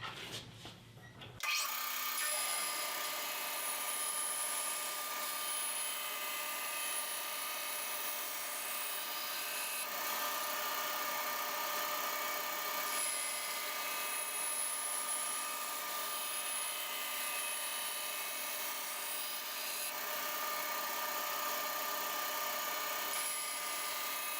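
A band saw cuts strips of wood for guitar linings after a brief clatter at the start. The steady high-pitched whir continues loud and unbroken for the rest of the stretch.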